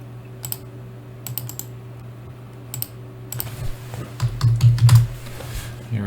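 Computer keyboard typing in short clattering bursts of keystrokes, pausing and then picking up into a denser run, close up over a low steady hum.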